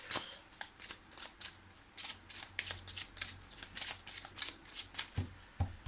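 A deck of tarot cards is shuffled close up for a reading, giving a quick run of crisp riffling flutters and soft slaps in an irregular rhythm, with no talking.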